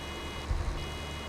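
Warning beeps from a baler in a farming video game, a faint repeated electronic tone sitting under a steady machine hum, with a low thump partway through.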